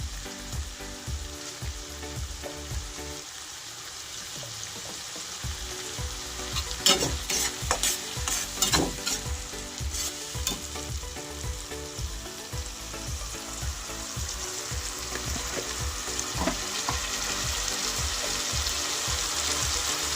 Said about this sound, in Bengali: ভালো করে এগুলোকে নাড়াচাড়া করে মিশিয়ে নিলাম